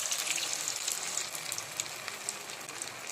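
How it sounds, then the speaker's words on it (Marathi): Manchurian balls deep-frying in a wok over medium gas give a steady, dense crackling sizzle that holds evenly throughout, with no voices. "ते तळून घ्यायचे छान असे।"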